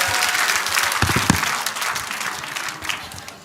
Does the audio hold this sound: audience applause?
yes